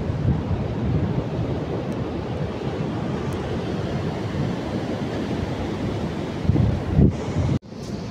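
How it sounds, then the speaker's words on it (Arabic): Ocean waves breaking on the shore, a steady broad roar of surf mixed with wind buffeting the microphone, loud and continuous, ending with a brief dip near the end. "اش عجبكم صوت الامواج ومنظر الامواج؟"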